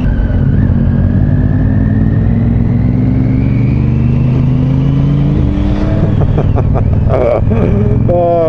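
A Honda Adventure Sport motorcycle is ridden on a road near a traffic island, a steady droning engine under wind noise that rises in pitch as it accelerates, with a voice talking over it.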